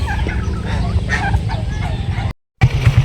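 Several fowl call close by, with gobbling and clucking domestic turkeys overlapping in a busy flock at feeding, cut by a brief silent gap.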